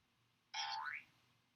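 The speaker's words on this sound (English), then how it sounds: "I have a boing effect on my phone." A single cartoon boing effect played from a phone, a springy wobbling tone lasting about half a second, bright and fairly faint against quiet room noise.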